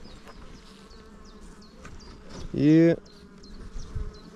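Honeybees buzz steadily around a brood frame lifted from a hive, a close, continuous drone with a few individual bees darting past, while someone briefly speaks over it.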